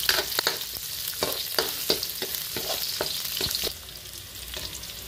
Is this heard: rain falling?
no